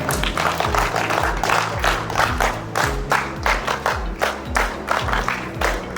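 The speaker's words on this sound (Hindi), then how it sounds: "इनके सम्मान के लिए जोरदार तालियां आप" Audience clapping at an outdoor street play, loud irregular bursts of many hands near by, rising and falling unevenly, mixed with a low droning hum underneath and no clear talk.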